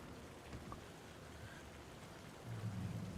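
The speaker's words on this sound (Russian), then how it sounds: "А, нет, дождик идет." Steady rain falls in the horror video game Alan Wake 2, a soft continuous hiss of drops on surfaces that swells slightly louder near the end, with no voices.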